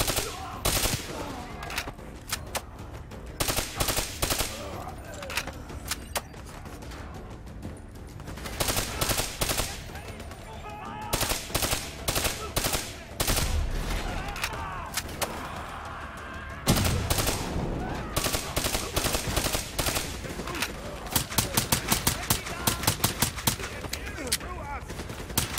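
Dense rapid gunfire rattles in bursts aimed at the player in Black Ops 3, sharp repeated cracks and machine-gun volleys dominating throughout with brief pauses, a voice occasionally speaking under the shots.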